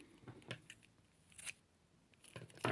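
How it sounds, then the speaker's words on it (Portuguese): A few quiet snips of scissors cut through crochet yarn stuck with a bit of tape, three or four soft crunchy cuts spread out with faint handling noise between them, close and low in level. "Deixa eu cortar essa partezinha aqui também."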